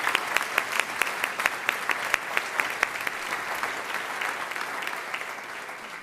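Commencement ceremony crowd applauding bachelor's degree graduates at Western Governors University, steady clapping with a few sharp, prominent nearby claps early on, tapering gradually over six seconds.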